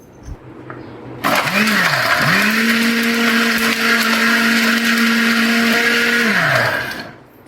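A blender whirs up to full speed after a brief stutter and grinds sattu sharbat with water steadily for several seconds, loud and close, then winds down to a stop.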